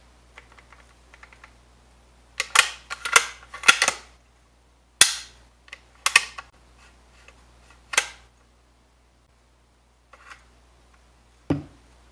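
A Wards Western Field .410 model 17b shotgun has its action and safety worked by hand. Sharp, close metallic clicks and clacks come in irregular groups over about twelve seconds, separated by quiet gaps, with no talk.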